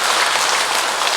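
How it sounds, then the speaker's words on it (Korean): Welcoming applause from a church congregation for visiting tourists during a Sunday Mass, a loud, even wash of clapping that fills the whole brief moment. "우리 이분들 환영의 박수를 먼저 갑시다."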